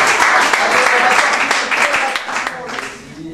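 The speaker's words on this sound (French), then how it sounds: "Applaudissements" An audience claps at a fairly close, loud level, with distinct hand claps over a dense crowd bed. The sound holds steady and then eases slightly toward the end.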